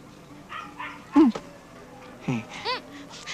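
A puppy gives a few short high yelps and whimpers, up close and fairly loud, with soft background sounds in between.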